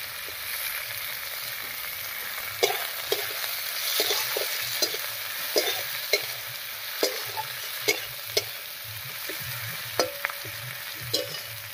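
Chopped onion, garlic and green chilli frying in a pan for a Bengali moong dal with drumstick leaves, a steady sizzle broken by a dozen or so sharp scrapes and clinks of the spoon stirring, with no one talking.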